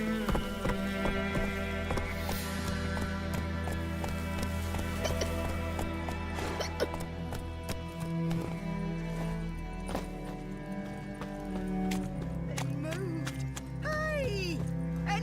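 A horse's hooves clip-clopping at a steady walking rhythm in The Witcher 3: Wild Hunt video game, mixed with game ambience and a voice speaking over them.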